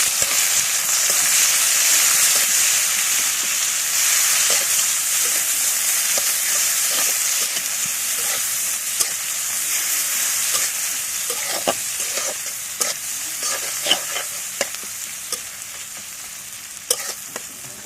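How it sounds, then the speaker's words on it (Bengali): Sliced onions sizzle in hot oil in a kadai while being cooked for a fish dish. The frying hiss is steady and close, and a spoon stirs and scrapes the pan in intermittent sharp clicks throughout. "এখন পেঁয়াজটা একটু হালকা ভাজিয়ে নিই।"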